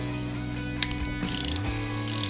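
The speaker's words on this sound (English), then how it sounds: "air ratchet to get them the rest of the way out, just because it's quicker, but get them broke loose" A hand ratchet clicks while breaking loose cylinder head bolts on a 5.3 LSx V8 engine during teardown, a short burst of ratcheting over a steady mechanical hum and background noise.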